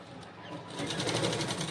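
A sewing machine stitches a firm seam in fabric for piping, starting after a quiet moment and then running as a rapid, rhythmic close whir.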